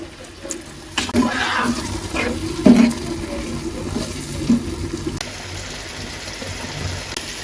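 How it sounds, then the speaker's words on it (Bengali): Water splashes and pours into a pan of curry with onion greens and tomato for a few seconds, with bubbling and clatter, then a quieter steady sizzle continues. "টমেটো ভালোভাবে কষানোর জন্য একটু পানি দিয়ে দেই"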